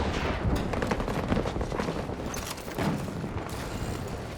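Dense video game gunfire in a multiplayer shooter, a steady clatter of rapid shots with scattered heavier booms running continuously throughout.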